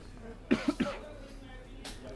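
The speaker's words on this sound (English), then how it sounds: "You'll have to excuse my coughing." Three quick coughs in a row, fairly close, followed by a quiet pause and a faint throaty sound.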